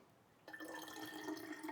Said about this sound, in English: So we're going to chuck our cold water in